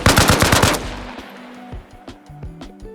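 A fast burst of AK rifle fire rattles loudly for under a second in a video game as rounds are aimed at a Humvee's fuel tank, followed by fainter clanks and scattered impacts.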